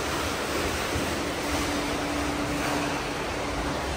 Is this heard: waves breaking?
yes